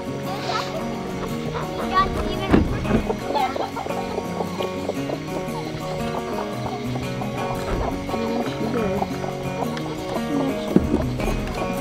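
Hens cluck and chatter close by in a busy coop, with irregular squawks over steady rustling and background noise throughout.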